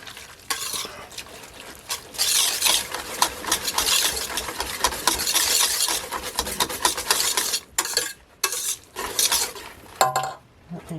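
A spatula scrapes tobacco and spice shaving soap mixture down the sides of a pot, producing loud, continuous rasping and clattering that stops briefly and then resumes in shorter bursts near the end.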